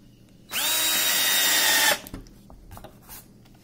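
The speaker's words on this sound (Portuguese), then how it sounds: "Parafuso simples, parafusadeira." A cordless screwdriver drives a simple screw in a woodworking demonstration with a Makita 3709 trim router, one close, loud whirring burst of about a second and a half that stops abruptly, followed by faint handling clicks.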